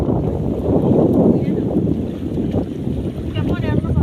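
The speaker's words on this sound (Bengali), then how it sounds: "দেখেন এই যে বাতাস" Wind sweeps across the bank of the Padma river, buffeting the microphone in a continuous, loud, rumbling roar with gusty swells.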